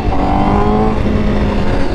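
A Honda Fireblade motorcycle exhaust rumbles loud and close in a short steady rev, with a low throaty drone and a slight rise in pitch, no talk over it.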